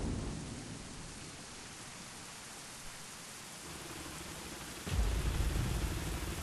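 Steady rain pours in a racing video game, with a low rumble of thunder swelling louder near the end, alone without speech.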